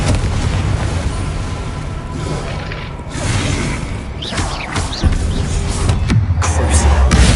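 Repeated Confringo blasting-spell explosions from Hogwarts Legacy, loud booming bursts and crashes over a continuous rumbling game soundscape, with a heavier blast near the end.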